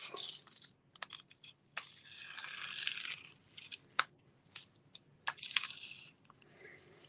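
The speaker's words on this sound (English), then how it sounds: "So I'm going to lift this painter's tape off." Painter's tape peeling off paper on a craft embossing-paste background, a series of short crackly rips and ticks in irregular bursts, close and fairly crisp, with no talking.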